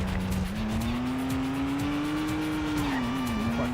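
A car in the PS2 stunt-driving game Stuntman pulls a handbrake turn, its tires squealing in a long, steady whine that bends in pitch over a constant engine drone.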